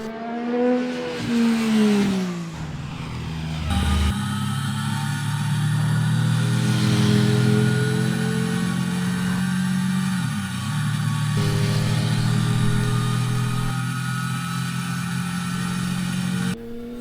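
A 2002 Triumph Daytona 955i three-cylinder motorcycle revs loudly and steadily, with a rising engine sweep early on before its exhaust settles into a sustained, howling drone up close.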